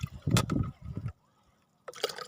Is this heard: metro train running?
no